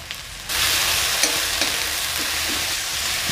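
Spices for a cauliflower dish sauté in a hot pan, a dense continuous sizzle that jumps louder after a quiet start, with occasional sharp clicks from stirring.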